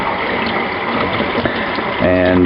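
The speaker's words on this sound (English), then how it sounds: "I'm going to let that run under some hot water here" Hot water runs from a tap over a container of malt extract, a steady gushing splash that grows fuller and louder near the end, with a brief word spoken over it.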